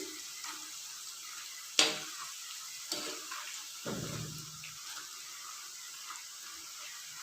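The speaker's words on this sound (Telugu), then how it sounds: "ఇది డీప్ ఫ్రై చేసుకోవాలి లేదంటే ఇది మాడిపోయే అవకాశం ఉంది" Rice flour ribbon pakodi deep frying in medium-hot oil gives a soft, steady bubbling sizzle, broken by a sharp clatter and a few lower scraping knocks.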